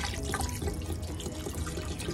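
Two liters of mineral water pour steadily into a cooking pot for chicken tinola soup, a continuous splashing rush of liquid that holds at an even level for the whole stretch.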